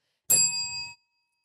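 A small bell gives one bright, clear ding that rings on briefly and fades, loud and close against silence.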